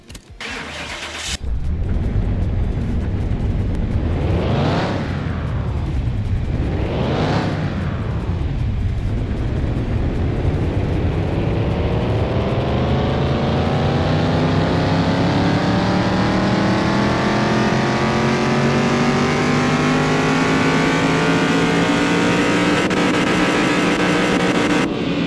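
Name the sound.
car engine revving on dyno in Car Mechanic Simulator 2021 video game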